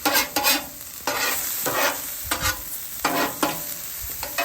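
Onions fry in leftover ham fat on a Blackstone griddle for a Denver omelette, a close sizzle broken by repeated rhythmic scraping strokes of a spatula.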